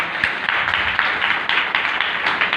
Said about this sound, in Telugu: చప్పట్లు కొట్టి.